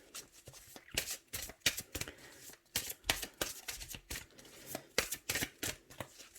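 Tarot cards are shuffled and drawn in a rapid, uneven run of crisp riffling snaps and flicks, close and clear with no talking.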